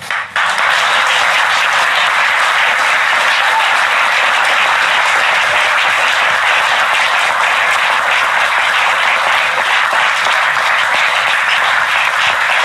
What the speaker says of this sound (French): Et maintenant, vous pouvez tous l'applaudir